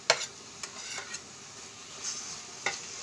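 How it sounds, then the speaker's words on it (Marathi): Brinjal tipped into frying spices in a pan, with a soft sizzle under a few sharp spoon-and-pan clinks and scraping stirs spread through a short, quiet stretch. "आता आपण जे वांग घेतले ते घालणार आहोत ह्यामध्ये।"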